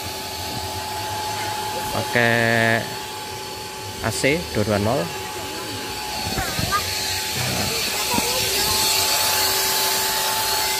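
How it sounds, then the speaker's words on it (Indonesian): An electric air pump drawing 140 watts from a portable power station hums steadily at a campground. The thin, constant motor whine sits under a person speaking, with a few short bursts of talk over it. "Jadi untuk daya pompa anginnya 140 watt."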